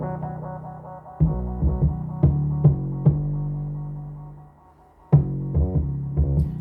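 A mixed hip-hop beat with low and high end boosted by a UAD Pultec EQ: a sustained bass-heavy tonal bed punctuated by several sharp drum hits, a drop to near silence around the fifth second, then the groove resumes.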